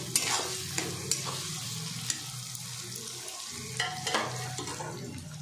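Onions sizzling and frying in a pan with salt added, a steady hiss under repeated scraping stirs of a utensil, close and continuous with no talk.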